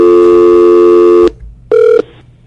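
A telephone call's tones play loudly and close: a sustained multi-tone signal lasting over a second, a short pause, then a briefer tone burst, like a call being placed through the network.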